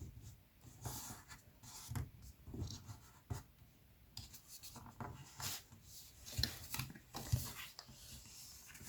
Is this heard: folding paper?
yes